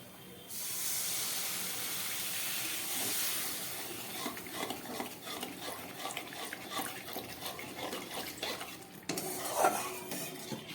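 Water is poured into a pan of fried spice masala while cooking okra curry, giving a loud rushing hiss at first, then a softer bubbling sizzle with scattered spoon clinks against the pan, close and without talk.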